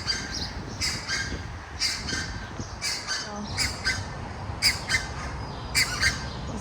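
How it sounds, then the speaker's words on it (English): Ducks, quail and geese at a zoo enclosure give loud, repeated squawks in irregular bursts over steady outdoor background noise, with no talk over them. "There's ducks and there's quail and geese and goose, and they are squawky little things, aren't they?"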